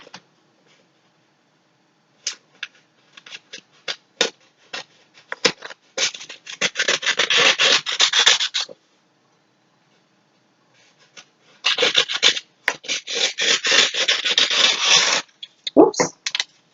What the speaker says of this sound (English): Okay, so we can start by cutting our stems out.